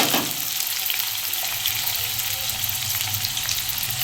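Potatoes and tomatoes fry in oil in a pan, a steady close sizzling hiss with a low rumble beneath, continuous and even for a few seconds with no talk.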